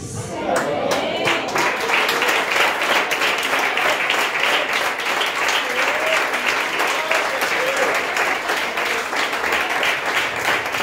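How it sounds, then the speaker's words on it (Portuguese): Loud, sustained applause from a church congregation, steady dense clapping that continues throughout without pause. "Mas eu posso bater palmas para Jesus junto com vocês?"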